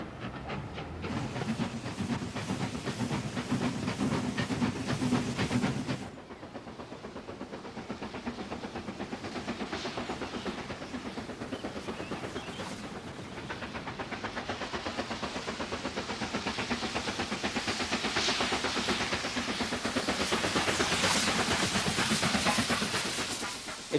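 A steam train runs along a preserved railway line with a continuous rolling rumble, rapid rhythmic clatter and hiss, loud at first, briefly softer, then swelling again near the end.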